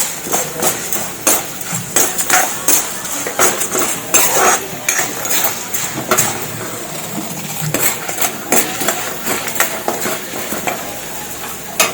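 Thoothuvalai leaves and other chutney ingredients are roasted in oil in a pan until almost brown, with a steady run of spoon scrapes and metallic clinks over a soft sizzle throughout, no talk.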